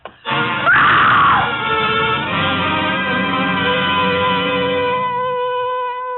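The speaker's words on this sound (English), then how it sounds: "It was a good loud scream." A loud, sustained scream in a radio drama, one long piercing cry holding strong for several seconds before easing off with a slight tremble, heard alone without talk.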